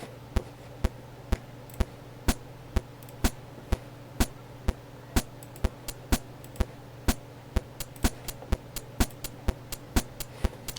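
An 8-bit chiptune drum beat in 4/4, made in FL Studio, taps out sharp, evenly spaced clicks at a steady tempo. A few extra hits fill the second half over a faint, constant hum.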